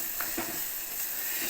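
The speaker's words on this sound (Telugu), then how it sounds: "ఇది మొత్తం ఫ్రై అయ్యి ఆయిల్ అనేది పైకి తేలాలండి. తేలేంత వరకు మనం ఫ్రై చేసుకోవాలి." Chili powder and turmeric fry in oil for a village-style chicken curry, a steady, close, bright sizzle with faint stirring scrapes throughout.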